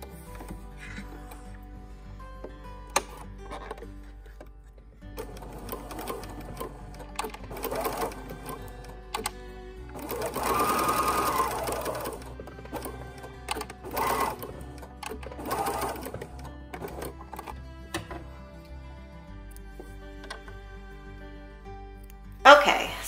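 Sewing machine sewing a pocket onto a raglan shirt, heard in short uneven runs of moderate loudness with clicks and handling noises between them, under intermittent talk.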